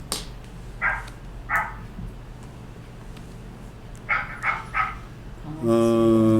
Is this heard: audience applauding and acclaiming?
no